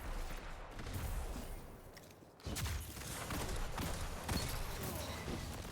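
Hand cannon gunfire rings out repeatedly during a Destiny 2 PvP match, with sharp shots landing over a dense wash of game effects and a brief dip in the noise midway.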